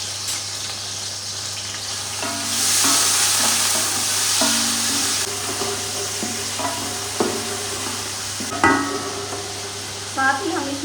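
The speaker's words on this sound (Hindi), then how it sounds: "इसमें मैंने ऑयल डाला है और इसके अंदर हम ये प्याज डाल देते हैं" Three large chopped onions fry in oil in a big pot, giving a steady hiss of sizzling with intermittent scraping and clinking of a stirring spoon against the metal.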